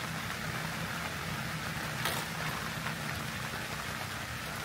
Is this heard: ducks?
no